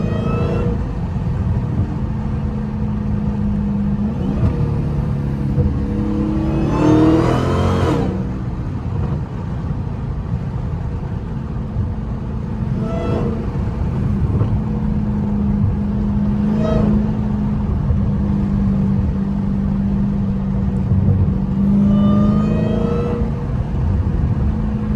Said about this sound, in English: I'm just letting y'all listen to the car,